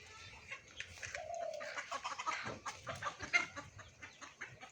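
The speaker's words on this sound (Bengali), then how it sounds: "তো বিভিন্ন বয়সের অনেক অনেকগুলো মুরগি রয়েছে এখানে" Native chickens of various ages at a poultry farm in Debidwar, Comilla, clucking and calling continuously in a busy, moderately distant flock chorus, without speech.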